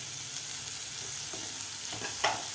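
Sweet corn, carrots and finely chopped garlic sauté over a high flame for sweet corn soup, giving a steady close sizzle with light stirring scrapes and a few louder clinks.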